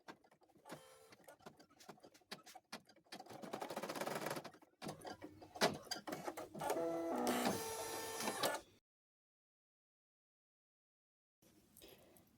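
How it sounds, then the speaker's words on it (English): A sewing machine stitches felt reinforcements onto the joints of a cloth doll, its motor whirring in several bursts of rapid needle chatter, then stopping into silence before a faint restart near the end. "Now we will stitch down the felt for the doll joint reinforcements."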